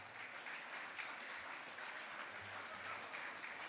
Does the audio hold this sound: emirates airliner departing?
no